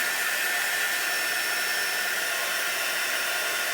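A hair dryer blows steadily on a damp chalk-paste craft project with a transfer stencil, giving a continuous, even, close whooshing whir with no talk over it.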